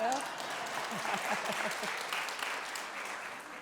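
A school district audience applauds a newly arrived council member during a State of the Schools address, a steady mid-level round of clapping with a brief voice at the start.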